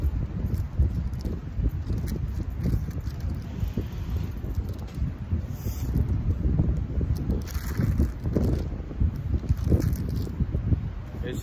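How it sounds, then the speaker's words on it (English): Wind gusts buffet the microphone with a low, continuous roar and rumble, while people speak now and then underneath. "It's a little windy"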